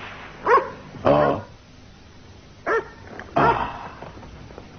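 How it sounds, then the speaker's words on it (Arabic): A dog in an animated series barks in four short, loud bursts, spaced irregularly and heard close with no talk over them. "أليس هذا نباح كلب يا مونوز؟ نعم نباح كلب."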